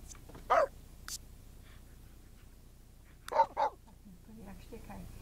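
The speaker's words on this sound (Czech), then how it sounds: "Jak štěkaj." A dog barks in The Sims 3 video game: a few short, separate yaps, one early and a quick pair later, over a low steady background hum.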